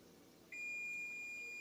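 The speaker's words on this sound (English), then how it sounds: "My timer just went off because I'm done cooking my garlic here." A kitchen timer goes off during cooking, a single steady high-pitched electronic beep that starts suddenly and holds on clearly over faint room background.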